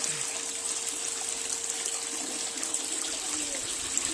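Water runs steadily through a gold panning setup outdoors, a constant soft trickling wash at low level with no voices.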